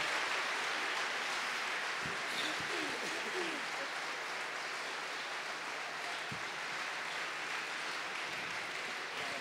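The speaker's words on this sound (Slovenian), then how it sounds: "Dominik, tvoj aplavz." Steady applause from a folk-music radio show audience in Carinthia, dense and even throughout, with a couple of brief voice fragments rising over the clapping.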